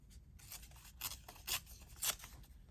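Paper is torn for a journal made from a damaged book cover: three faint, short rasping rips come at roughly half-second intervals over quiet room tone.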